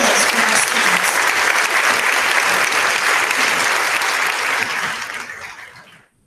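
Steady, dense applause from an audience honouring students at a middle school Schools to Watch ceremony, loud and sustained for several seconds before tapering off and stopping.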